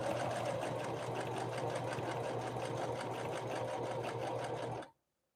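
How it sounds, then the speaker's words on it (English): Singer 5808C sewing machine running steadily through six heavy fabric layers, a loud close rapid mechanical stitching rhythm that continues without pause, then stops abruptly near the end. "It didn't even try to sew through those 6 layers."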